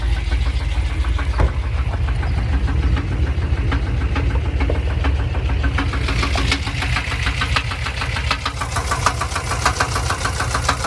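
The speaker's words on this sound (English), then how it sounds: "You hear that loud ass tapping sound?" A running car engine with a steady, rapid metallic ticking from faulty lifters over a low rumble, continuous and close.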